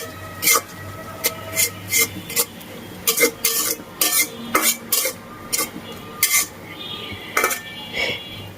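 A spatula scrapes in repeated, rhythmic strokes against a pan as onion is sautéed with ginger, garlic and cumin paste for a jiol fish curry, close and fairly loud with faint frying underneath.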